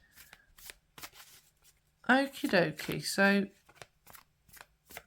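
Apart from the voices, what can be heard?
shuffling tarot cards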